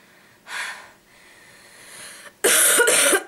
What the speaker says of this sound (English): I'm sorry if I'm coughing and stuff